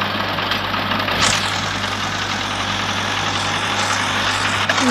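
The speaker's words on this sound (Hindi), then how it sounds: "ये यार अपने जंगेर का ट्रैक्टर है, ये देख लो कैसा चलता है भाई" A John Deere tractor engine idles steadily in a tractor simulator game, a constant low droning hum with a faint mechanical hiss running unbroken throughout.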